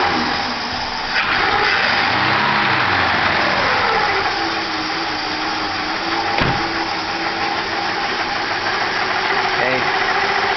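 A car engine running on a water and fuel mix idles close by, a low continuous rumble with slight shifts in pitch and a brief clunk partway through.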